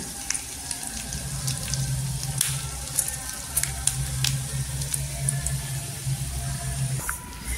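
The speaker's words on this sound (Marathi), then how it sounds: "इथे तेलामध्ये बघा शेंगदाण्याचा कूट भाजून घेतलेला आहे, असा क्रिस्पी भाजून घ्यायचा" Crushed peanut crumble frying in hot oil until crisp and golden, a continuous crackling sizzle with light scraping stirs, close and fairly loud.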